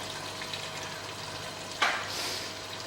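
Mutton frying in ghee after a lemon juice and sugar solution goes in, a steady soft sizzle throughout with one brief louder splash partway through.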